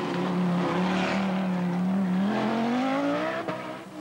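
Short wheelbase Audi rally car tearing along a special stage at the 1982 Acropolis Rally in Greece, engine roaring loud and close with a steady note that climbs in pitch as it accelerates, no talking.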